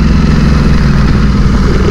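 A Ducati motorcycle engine with a full-system exhaust runs loud and close, giving a constant, deep, throbbing rumble with no voices.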